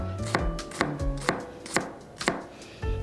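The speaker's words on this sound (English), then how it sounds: "So you just make slices right before you get to the root end." A knife slices through an onion on a cutting board in a kitchen, giving about seven crisp, evenly spaced cuts, each a sharp tap as the blade meets the board, close and clear with no talking.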